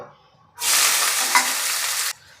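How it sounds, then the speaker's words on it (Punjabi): Onions dropped into hot oil with cardamom and a small piece of cinnamon for a dhaba-style aloo matar, bursting into a loud, steady hiss that holds for about a second and a half, then cuts off abruptly. "ਇਹ ਪਿਆਜ਼ ਨੂੰ ਹੁਣ ਆਪਾਂ ਭੁੰਨੂਗੇ"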